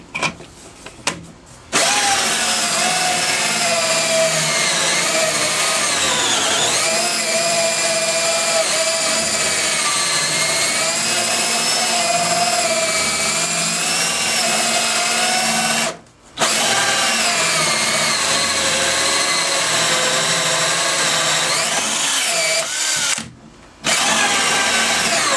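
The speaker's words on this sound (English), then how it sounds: "So I'm going to go ahead and drill a few holes." A power drill bores holes into the deck of a Sea Ray boat, its loud, steady high-pitched whine running close up for long stretches and cutting out briefly twice.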